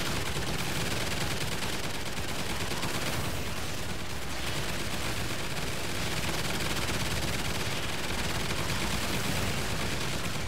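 Automatic turret in the video game Extinction firing at creatures, a dense, continuous rattle of rapid shots that never lets up, loud and close.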